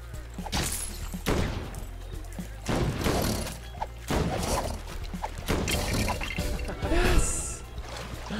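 Rapid bursts of gunfire aimed at a shark in the video game Lego Worlds, repeated volleys with crashing, clattering impacts over a steady low game background, with some talk mixed in.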